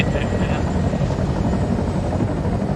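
Helicopter flying over snowy tundra in a video game, rotor thumping loudly and continuously with a steady engine drone, constant and close throughout the short stretch.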